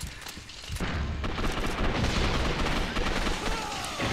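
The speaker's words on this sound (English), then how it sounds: "Grenade, grenade, grenade, grenade." A grenade blast in the online shooter Gotham City Impostors booms out loud and near, then rolls into a dense rumble of gunfire and further bangs that fill the whole few seconds.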